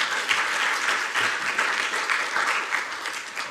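Seminar audience clapping steadily for the full stretch, a dense, even wash of many hands in a room with no voices over it.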